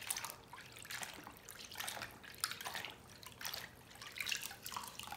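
Lace made with water-soluble stabilizer being gently rinsed and agitated in water, giving faint, continuous splashing and trickling with soft drips throughout, no voices.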